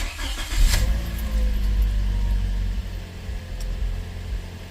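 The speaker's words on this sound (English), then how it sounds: "So we're going to start the car." A 2013 Toyota Corolla with a reported misfire and lit engine and traction warning lights cranks and fires up with a sharp burst, then settles into a steady, close, rumbling idle.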